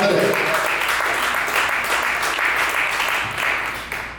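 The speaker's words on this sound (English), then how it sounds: "Can y'all just give me a round of applause for ranting to y'all today?" A round of applause, steady and fairly loud throughout with a slight dip near the end, with no talking over it.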